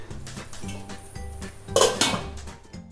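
A lid is set onto a dry pan of tomatoes on the stove, soft metallic knocks and scrapes followed by one brighter clank of the lid settling, then quieter rattles.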